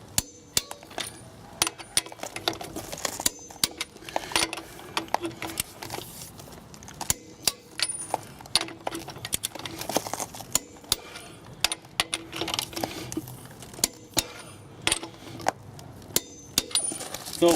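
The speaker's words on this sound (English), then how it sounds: "we'll take our torque wrench and give them a final tightening" Torque wrench tightening the wheel nuts on a Chevrolet Silverado after a flat tire change, with repeated sharp metallic clicks and clanks in irregular bursts, close up, mixed with handling noise.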